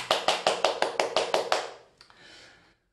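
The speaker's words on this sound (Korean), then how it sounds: "우리 영광의 하나님께 감사의 박수 올려드리겠습니다." A congregation at a children's worship service claps in thanks, about eight quick, evenly spaced claps in a steady rhythm, then a short fading patter.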